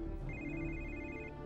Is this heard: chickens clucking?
no